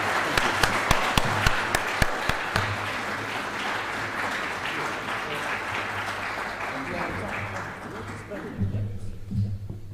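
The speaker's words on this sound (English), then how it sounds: "So I would like all of you to join me in thanking him. So applause," Audience applause thanking the discussants at a conference on European integration, sustained clapping from a seated crowd that fades gradually, with a speaker's voice coming in near the end.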